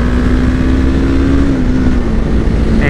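A motorcycle engine runs loud and close, a steady droning growl whose pitch rises slightly and then eases, with no talking.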